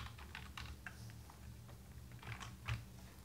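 Someone types on a computer keyboard, a quick run of faint, close key taps over a low background hum.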